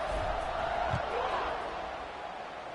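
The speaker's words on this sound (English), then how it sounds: "this crowd is buzzing after that last score" A stadium crowd buzzes with a steady, dense roar after a score in the college football video game College Football 26, continuous and fairly loud across the whole stretch.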